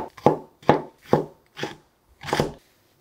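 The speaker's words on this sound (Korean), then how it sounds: "양파를 곱게 채를 썰어주면 돼요. 곱게 고운 채를 썰어서 다져줄 거예요." A knife finely julienning 200 g of onion on a cutting board: five crisp, close chops in a quick uneven rhythm with short silent gaps, the last stroke slightly longer.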